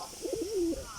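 A pet pigeon gives a single short, close, throaty coo with a rolling, warbling pitch, heard alone.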